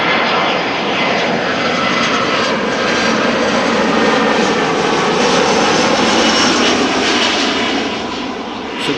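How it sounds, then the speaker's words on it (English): Aircraft landing at Amsterdam Schiphol Airport, a steady loud engine roar that swells slightly mid-way and eases near the end, with no talk. "This is traffic landing to the northeast, and on runway 18 right they are landing to the south."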